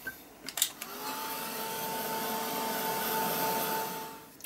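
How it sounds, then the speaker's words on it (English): A heat gun blows steadily to dry silver paint splatters on a craft piece, a close, loud continuous whooshing drone with a faint tonal whine, preceded by a few brief clicks as it starts. "Let me get the heat gun on that."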